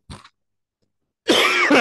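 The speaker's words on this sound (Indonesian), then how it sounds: "aduh, maaf ya saya agak batuk." A single short cough, then after a pause a louder, harsher burst of coughing and throat clearing from a man teaching in an indoor class.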